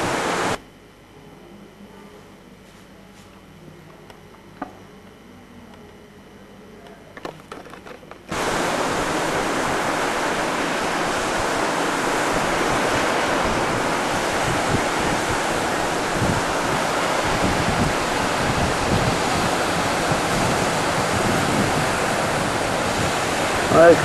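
Sea waves break on the shore at Lido beach in Venice, a steady broadband wash of surf and wind that starts abruptly after several quiet seconds and then rolls on continuously and loudly, with no voices.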